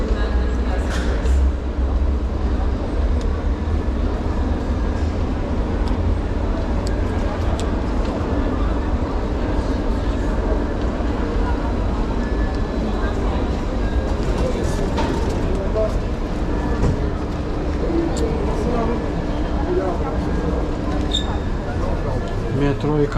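A metro train at a station platform rumbles steadily with a broad, continuous mechanical roar and rattles, with murmuring voices mixed in throughout.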